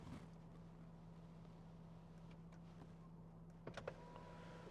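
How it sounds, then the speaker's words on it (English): A 2017 Land Rover Discovery 3.0 TD V6 HSE has memory seats, mirrors and steering wheel moving into place with a very faint, steady electric motor whir and a few soft clicks near the end. "steering wheel changes, mirrors change, seats change, and you're back in the exact position that you wanted"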